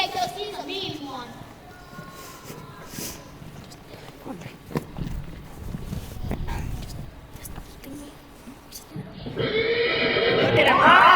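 A horse called the Widowmaker neighs at a youth theatre stage performance, and a loud, shrill whinny bursts out near the end after talking and scattered stage noises.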